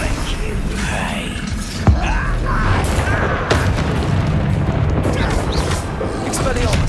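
A Confringo blast spell from the game Hogwarts Legacy, loud booming impacts and rumbling combat effects layered with spoken spell incantations and other voices.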